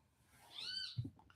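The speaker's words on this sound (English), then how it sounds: "You hear that damn bird?" A single drawn-out bird call rises and falls, faint and somewhat distant, followed by a short low thump in an otherwise quiet outdoor setting.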